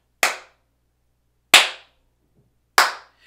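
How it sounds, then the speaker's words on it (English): A person claps three times in a room lined with acoustic panels. The claps are crisp, separate and about a second apart, each dying away quickly into quiet with no flutter. "It's a pure clap sound."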